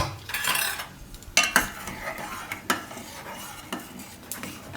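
A spoon stirs cold coco milk as it comes to a boil in a pot, giving soft scraping and clinking against the metal with a few louder knocks, close and alone with no talk.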